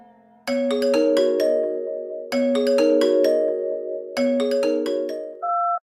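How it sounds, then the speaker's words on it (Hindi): A phone ringtone plays a bright, repeating melodic pattern in three bursts, clear and close, ending on a short higher two-note tone. "तभी गांव से उसके माँ का फोन आता है।"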